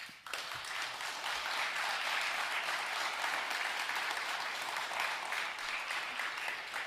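A crowd at a university all-candidates forum for a federal election gives the candidates a sustained round of applause, dense and steady clapping that fills the room from start to finish.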